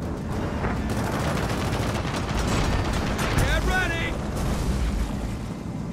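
Rapid gunfire crackles and booms from a Gears of War 4 co-op campaign storm level while players shoot at bombs, dense and continuous throughout, with excited voices talking over it.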